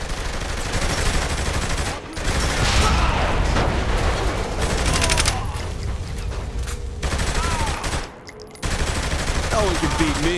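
Dense gunfire from a Saints Row The Third shootout, bursts of rapid shots and fusillades rattling almost continuously for about ten seconds, with a couple of brief pauses and game sounds mixed in.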